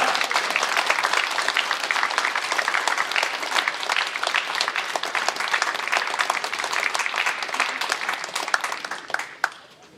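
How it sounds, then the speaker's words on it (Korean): A church congregation gives a big round of applause as a visiting missionary comes forward, dense sustained clapping filling the room for about nine seconds before tapering off at the end. "우리 선교사님 나오실 때 우리 다 같이 박수를, 큰 박수를 드리도록 하겠습니다."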